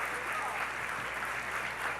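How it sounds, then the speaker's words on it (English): An audience in a hall applauds Secretary Clinton, a steady dense clapping heard at moderate distance throughout the brief moment. "Everyone, please give a big round of applause to Secretary Clinton"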